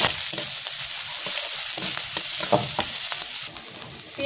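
Chopped onions sizzle steadily in hot oil in a pan for a lote fish curry, with a dense, continuous frying hiss and a few scraping stirs, close and fairly loud throughout.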